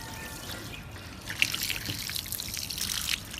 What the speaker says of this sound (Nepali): कति मैला पानी आउँछ